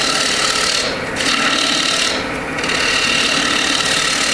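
Woodturning gouge shearing away excess wood on a spinning lathe during a demonstration, a steady loud raspy scraping hiss that runs continuously, with two brief dips as the tool eases off the workpiece.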